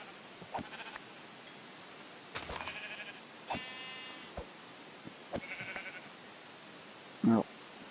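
Sheep in the game Minecraft (version 1.9) let out several short, wavering bleats spaced across the stretch, mixed with other small game sounds and clicks, fairly close.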